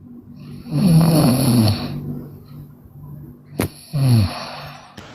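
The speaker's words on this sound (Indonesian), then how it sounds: "itu yang ngorok itu matiin aja itu" A person snores loudly and close by, with one long, rattling snore, a pause and a short sniff, then a second, shorter snore.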